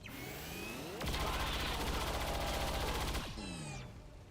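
Sustained rapid automatic fire from a shooter game rattles loudly for about two seconds in the middle, framed by whooshing, sweeping effects before and after; no talking.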